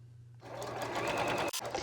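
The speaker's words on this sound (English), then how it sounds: "let's go to the sewing machine and sew this row together" A sewing machine runs in a fast, steady stitching whir as it sews a pieced quilt row together indoors. The sound is close and continuous, with a brief break near the end, and no voice.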